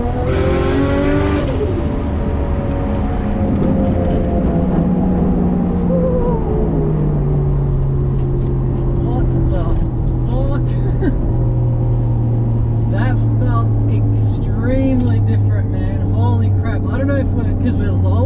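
A lowered Nissan R33 with a built 550 hp RB25DET engine and new camber arms, heard from inside as the engine revs hard and climbs through the gears, loud and continuous, with occupants talking over it.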